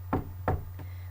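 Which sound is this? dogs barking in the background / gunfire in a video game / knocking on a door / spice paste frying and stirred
knocking on a door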